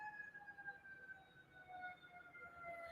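Ambulance siren outside, a faint, distant wailing tone that slowly rises and falls over steady background noise, with no talk.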